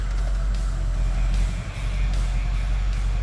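A Chevrolet Silverado short-bed Duramax diesel truck backs up, with a loud, steady low engine rumble and faint repeated beeps or hisses over it, and no talking.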